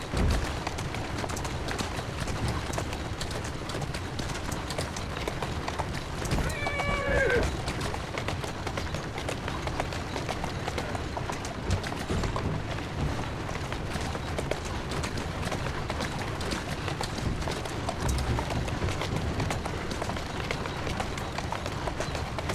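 In Assassin's Creed Syndicate, a horse gallops in a steady, continuous drumming of hooves mixed with carriage rumble and street noise, with a brief whinny partway through and a voice speaking over it at times.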